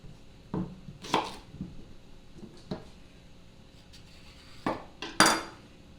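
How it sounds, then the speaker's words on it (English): Plantains are chopped into chunks with a knife on a cutting board, giving several sharp, separate chops with gaps between them, a close pair early on and a louder pair near the end. "You can cut them in chunks or smaller."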